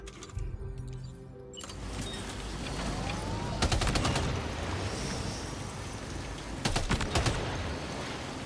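Shots fired at floating BT jellyfish in the video game Death Stranding 2, heard as a few sharp bursts of gunfire over a steady ambient game drone, with a cluster near the middle and another toward the end.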